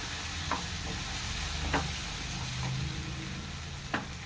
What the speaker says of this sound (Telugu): ఆయిల్ కూడా బయటకు వస్తుంది చూసారా, బాగా వేగిపోయింది.